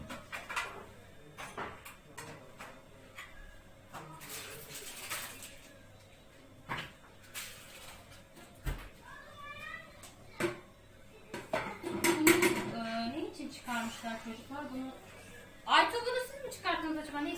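Dishes and cutlery clink and clatter close by in a home kitchen, with cupboard knocks and running-water handling noises while washing up, while people talk intermittently.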